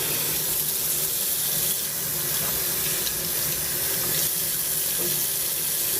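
Water runs steadily from a sink tap while suds are rinsed out, a continuous close splashing hiss with no talk over it.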